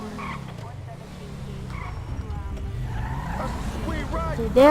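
A vehicle drives along a highway in GTA V with the LSPDFR mod, a continuous engine drone with some tire noise under someone talking throughout.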